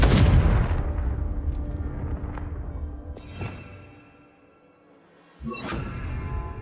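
The Confringo explosive spell is cast in Hogwarts Legacy: a loud blast at the start fades into a rumbling tail, then a second burst hits near the end.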